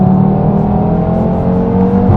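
A loud, steady whir from an Audi TT RS under hard acceleration with the turbo spooling, heard close and continuous with no talk.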